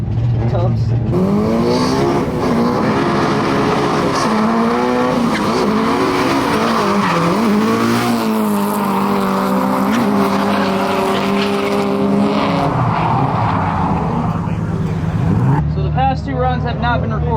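Tires of a drift car squeal and skid at length on a track as the engine revs hard through long slides, loud and close, with voices talking over it.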